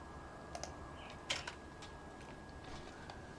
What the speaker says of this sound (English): we're going to type in YouTube Academy